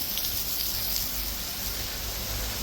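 Steady rain falls outdoors during a run under a flyover, a continuous broadband hiss with low rumble, constant and fairly close, no voices.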